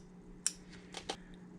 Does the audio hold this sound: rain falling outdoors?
no